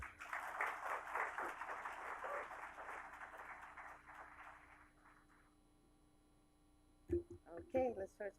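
An audience at a climate change center event at West LA College gives a warm round of applause, a dense patter of clapping that thins and fades over five seconds, followed by a quiet pause and then a voice.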